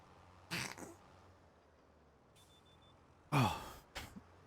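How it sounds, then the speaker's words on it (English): A sharp, aggressive human sneeze bursts out loudly after a quieter breathy sound, followed by a short trailing exhale over faint background hum, with no talking. "I'm leaving that in because that was a really aggressive sneeze"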